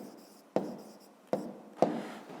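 A pen scratches across paper while working a fifth-grade maths exercise, three short bursts of close writing strokes separated by pauses.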